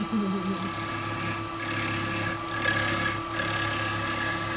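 A box hollower cuts wood spinning on a lathe, giving a continuous rough scraping hum with a low motor drone beneath and a few brief dips as the tool eases off the cut, close and fairly loud.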